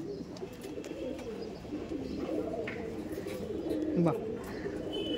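Pigeons coo steadily at a crowded Giribaj pigeon market, a low murmuring chorus close by with a brief exclamation from a man over the din.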